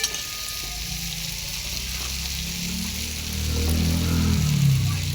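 Ginger paste frying and being stirred in a pan for a fish curry with onion stalks and potatoes, a steady close sizzle with scraping stirs that swells louder toward the end.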